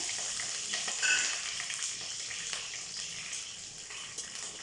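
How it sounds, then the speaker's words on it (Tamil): Curry leaves, dried red chillies and peanuts crackle and sizzle in hot tempering oil for green rice, a steady, close frying hiss with a brief louder spatter early on and no talk. "இப்போ தாளிக்கிற ஐட்டம்ஸ் எல்லாம் ஆட் பண்ணிடலாம். கருவேப்பிலை, காஞ்ச மிளகாய், வேர்க்கடலை"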